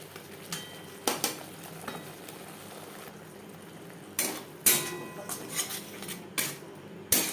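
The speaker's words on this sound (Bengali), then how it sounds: "বেশ ভালো করে মিক্স করে দেবো" A spatula stirs turmeric and spices into paneer and potatoes in a pan, producing intermittent metallic clinks and scrapes over a low background hiss, close by and moderately loud.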